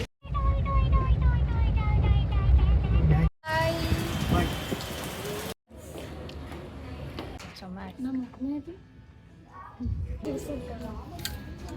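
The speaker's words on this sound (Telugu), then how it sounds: "పెద్ద వర్షం అయితే స్టార్ట్ అయిపోయింది" Heavy rain starts to fall in a sudden dense hiss, broken by brief cuts, with drops and spatter landing close on surfaces while people talk over it.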